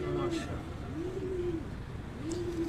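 Pigeons coo repeatedly in low, rounded, rising-and-falling calls close by, with faint background noise.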